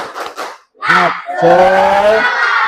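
Sixth-grade classroom of children doing a rhythmic spirit clap chant together, loud shouted voices in unison with a few sharp claps, close and energetic.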